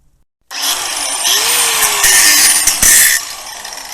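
Power grinder working the end of a steering shaft on a dual U-joint build, a loud continuous abrasive whine starting abruptly after a short silence, with shifting pitch and a brief louder burst near the end.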